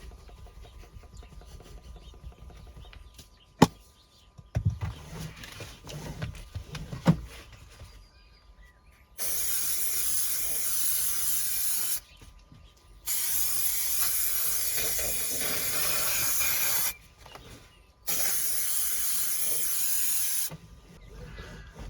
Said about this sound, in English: What we need to do is to lubricate it with a bit of our magic spray.